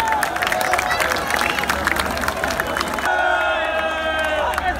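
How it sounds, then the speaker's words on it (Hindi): A large crowd at a 14th August celebration at the Sindh Governor House claps and cheers loudly for the governor, a dense continuous roar of hands and voices with whistles and shouts mixed in. "गवर्नर साहब के लिए जोरदार तालियां बनती हैं"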